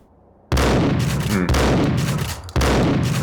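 Gunfire from a weapon in Max Payne, with three loud, heavy bursts of shots or explosive blasts in quick succession, each ringing out with a long booming tail.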